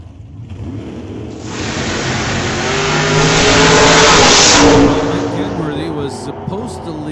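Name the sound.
1967 Nova drag racing car accelerating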